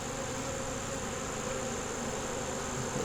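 Honey bees swarming over beehive frames in a hive repairing wax moth damage, a dense, steady buzzing hum close by, with no talking.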